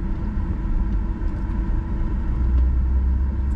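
Car driving slowly through an apartment complex while the road is being paved, a steady low engine and road rumble filling the scene, close and continuous with a slight swell toward the end, no talk.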